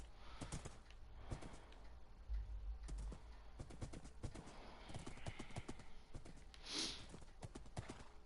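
Horse hooves clip-clop through a video game, a rapid, fairly close run of light strikes with a brief whinny-like burst near the end, heard alone without talk.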